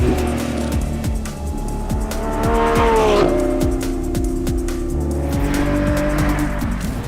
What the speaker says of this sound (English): we are driving flat out, using the brakes very hard on a racetrack